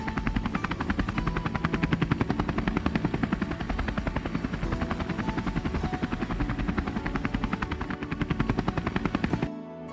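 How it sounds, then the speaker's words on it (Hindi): A cartoon helicopter arrives and lands in front of a house, its rotor giving a loud, rapid, steady chopping pulse that runs nearly continuously before cutting off abruptly at the end. "तभी इधर बाबा अपनी हेलीकॉप्टर से आते हैं और इन लोगों के घर के सामने उतरते हैं।"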